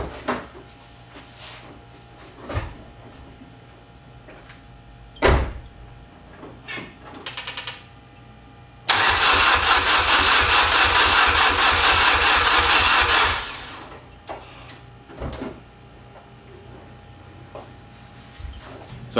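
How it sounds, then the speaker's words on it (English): A Kia car engine cranks for about four seconds without starting, a loud rapid rhythmic churning burst set among faint knocks and clicks in a quiet garage. "it's still not starting and still just cranking"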